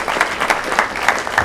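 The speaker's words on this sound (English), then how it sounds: "Give yourselves a great round of applause as well" A banquet audience at a 2013 MLK dinner in Nassau County claps steadily, with a broad patter of hands and a loose rhythm of slightly stronger pulses roughly every third of a second.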